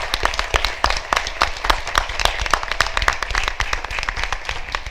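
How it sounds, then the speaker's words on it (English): Audience applause for athletes and coaches at the close of a school board of education meeting, dense steady clapping from many hands filling the room for the whole stretch. "Let's have one final round of applause for the athletes and the coaches."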